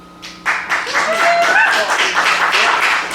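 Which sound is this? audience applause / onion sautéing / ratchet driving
audience applause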